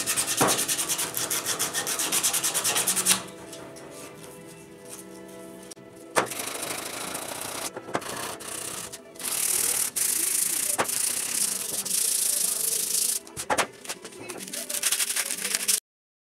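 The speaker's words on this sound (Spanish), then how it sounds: "Terminamos la cosa con lija fina a mano," Repeated scratchy rubbing of fine sandpaper on a recycled-wood hammer handle by hand, steady strokes with brief pauses, close up, with some background noise.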